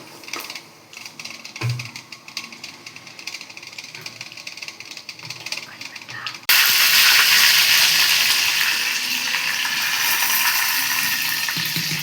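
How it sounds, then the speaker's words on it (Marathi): Mustard seeds spluttering in hot oil in a kadhai while tempering for chutney, a light crackle that erupts midway into a loud, dense, continuous sizzle and pop. "मोहरी टाकून घ्यायची आहे, मस्तपैकी तडतडवायची आहे मोहरी।"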